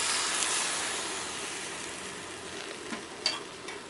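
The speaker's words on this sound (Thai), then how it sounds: "ช่วงแรกๆอาจจะผัดยากหน่อยนะคะ เพราะว่า ใบเหลียงมันยังไม่สลดอะค่ะ ก็ผัดไปเรื่อย ๆ ค่ะ ใช้ไฟแรงเลยนะคะ" Liang leaves stir-fried in a pan over high heat, a steady broad sizzle and hiss with occasional scraping clicks of a spatula near the end, no talking.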